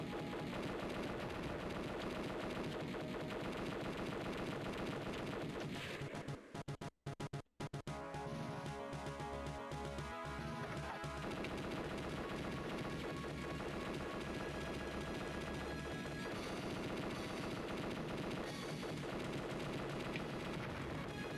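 Steady video game gunfire runs continuously at a modest level, rapid repeated shots layered over game music and effects, with a brief dropout partway through before the shooting resumes.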